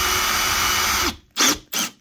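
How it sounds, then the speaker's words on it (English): A Milwaukee cordless drill whirs steadily for about a second while tightening its chuck around a bit, then stops, followed by two short whirring bursts. "and then you can tighten the chuck around the drill bit"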